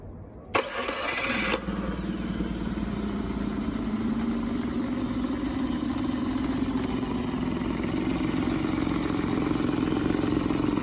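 A Suzuki 9.9 hp outboard motor, just fitted with new parts after misfiring, cranks with a brief burst and catches at once, then settles into a steady, loud, even running drone close by with no talking.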